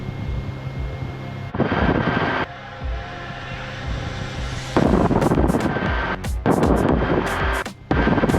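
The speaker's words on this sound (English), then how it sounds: "See that wind kicking." Wind rushing and buffeting past a small Rotorway kit helicopter in flight during autorotation practice, a steady roar that swells in loud gusty bursts with choppy gaps toward the end.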